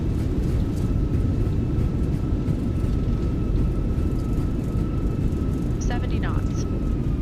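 A British Airways A320 in a flight simulator, landing with engine reverse thrust, a loud steady roar of rumbling engine noise with a faint tonal whine, and a voice speaking over it.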